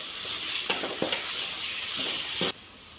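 Ginger garlic paste fries in a pan for chicken fried rice, a continuous close sizzle broken by a few stirring scrapes before the sound drops off abruptly near the end.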